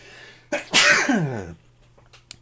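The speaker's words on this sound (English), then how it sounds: "Ooh, I got a sneeze coming, sorry." A single loud, close sneeze with a sharp intake and burst, followed by a few faint sniffles.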